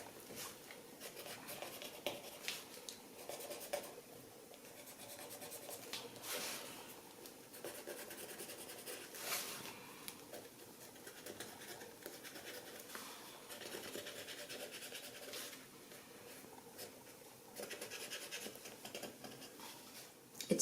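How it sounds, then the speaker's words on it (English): A paper stump blends graphite pencil along the edges of a drawing on paper, giving a soft, continuous scratchy rubbing with faint strokes that keeps going close by and quiet, with no talk. "I have decided to take my paper stump and I am going in on each edge and just blending out that pencil."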